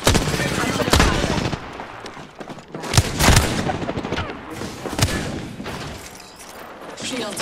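Rapid automatic gunfire from the Apex Legends video game crackles in bursts, with sharper single shots and heavy thumps mixed in amid dense, close combat noise.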